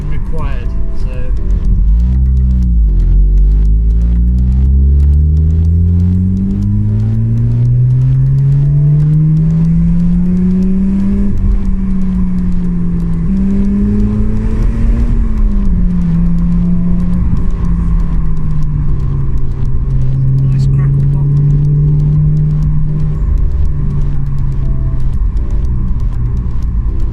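A Mazda RX8 rotary engine pulls hard on country roads, its loud, close drone rising steadily in pitch as it accelerates, easing and climbing again through gear changes with a constant rumble underneath.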